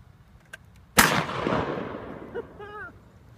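A single loud, close gunshot fired at a chocolate Easter figure at an outdoor Easter egg shoot, with a long rolling echo that fades over a couple of seconds, preceded by a faint click.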